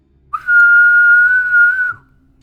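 A person whistles one sustained, clear note lasting about a second and a half, loud and close, with a slight waver in pitch before it fades out.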